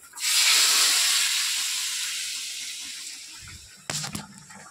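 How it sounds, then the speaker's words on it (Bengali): Hot Bengali spice tempering is poured into a pan of fried aubergine, bitter gourd and lentil dumplings, giving a loud burst of hissing sizzle that slowly fades, followed by a short clatter of utensils. "হয়ে গেছে ফোড়ন ভাজা, এবার আমি ফোড়নটা"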